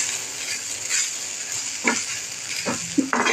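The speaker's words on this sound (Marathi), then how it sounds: "गरम तव्यावर तेवढं भाजलं जाईल." Roasted coconut and chili powder stirred on a hot griddle for black pea usal, with the gas just switched off: a steady soft sizzling hiss with a few scraping stirring strokes near the end.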